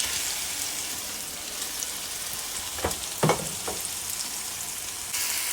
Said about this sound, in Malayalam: അതൊന്ന് സോട്ടായി വരുമ്പോൾ അതിൻ്റെ അകത്തേക്ക് നമുക്ക് ചിക്കൻ ആഡ് ചെയ്ത് കൊടുക്കാം